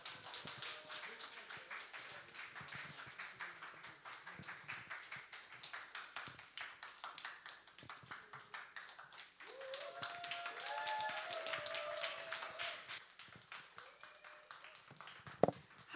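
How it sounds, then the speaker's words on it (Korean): Scattered hands clap in a women's prayer meeting hall to welcome a speaker, rather faint and roomy, with individual claps audible and a brief sharp tap at the very end. "우리 모실 때 박수로 모시도록 하겠습니다."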